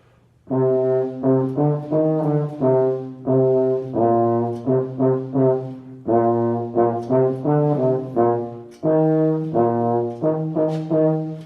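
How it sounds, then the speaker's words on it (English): A band plays a march melody in unison, brassy notes in short phrases with brief pauses between, steady and fairly loud with no voices. "you have a melody with the whole band that sounds like this"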